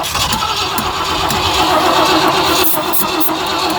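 A small engine fitted with a cheap Amazon carburetor catches and runs, a loud, steady mid-pitched drone held close by with a few sharper bursts near the end, no voices over it.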